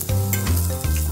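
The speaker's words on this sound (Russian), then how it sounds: "мы с вами формируем оладушки и жарим их" Carrot fritters frying in a pan, a continuous close sizzle with soft scraping and stirring movements, loud and steady with no voices.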